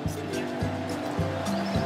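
A Porsche car drives along on a campsite road, its engine giving a steady, moderately loud hum with harmonic tones that step up and drop back roughly every half second, as if shifting or varying revs, with no talk.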